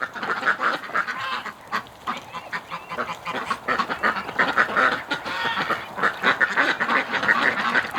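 A flock of ducks feeding on hay in a wintry yard, quacking and honking loudly and almost continuously, with overlapping calls from several birds nearby and no talk.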